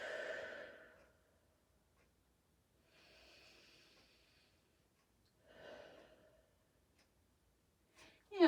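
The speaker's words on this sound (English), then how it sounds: "Couple deep breaths in and out here." Slow deep breaths in and out during a foam roller Pilates class, three soft separate exhalations spaced across a quiet room, close and faint, with a sharper sound right at the end.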